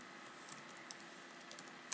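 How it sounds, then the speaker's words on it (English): Quiet typing on a computer keyboard during data entry in an Excel form, a sparse series of light clicks over a steady faint hiss. "you click on the enter button on your keyboard"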